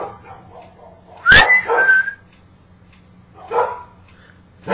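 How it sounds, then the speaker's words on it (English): Dogs bark and yip loudly in a few sharp bursts at home, with a whimpering, whistle-like whine between barks and quiet gaps. "the dogs did worse than this"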